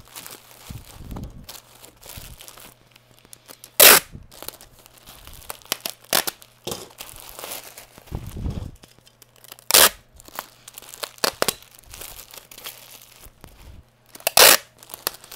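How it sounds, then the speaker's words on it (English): Packing tape is pulled and torn while a parcel is sealed, with crinkling and rustling handling, soft low thumps, and several loud, sharp rips spread through the clip. "And then roll it over, pull it in, and one big huge piece of tape."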